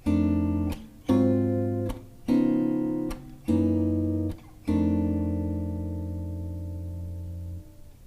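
Five sustained jazz chords, a turnaround with tritone substitutions and 13th and 9th extensions, played one after another, each struck cleanly and held, the last ringing out and fading slowly.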